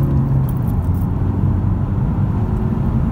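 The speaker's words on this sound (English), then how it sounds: "then it's going to accelerate up the road" A 2019 Honda Civic DTEC diesel accelerating up a road through the gears, a steady low engine drone with road rumble, close and loud, no talking.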